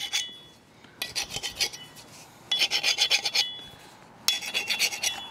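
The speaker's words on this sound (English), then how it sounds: "Now I'm just going to lightly file off these burrs." A hand file rasps burrs off a metal exhaust part for a Kubota B2601 tractor, in three close bursts of quick back-and-forth strokes separated by short pauses.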